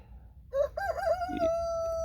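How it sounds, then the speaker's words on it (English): A rooster crows once, a rising call drawn out into a long held note, somewhat distant against a low background rumble. "there's our rooster saying hi"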